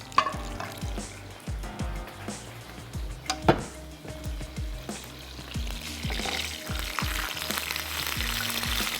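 Garlic and curry leaves frying in a pan for a Sri Lankan coconut daal, a steady crackling sizzle with occasional louder spits and light utensil clinks, close and continuous with no talking.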